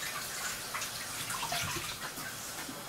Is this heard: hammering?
no